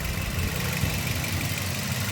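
A 2020 Maruti Suzuki WagonR ZXI petrol car idles in a steady, even hum with a low rumble, close by and continuous, with no talking.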